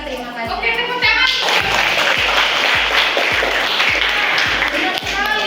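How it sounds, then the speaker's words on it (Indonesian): A room of people, likely a class of children, applauds at the end of a presentation, with dense continuous clapping under excited chatter and a regular low thumping beat throughout. "Oke, tepuk tangan."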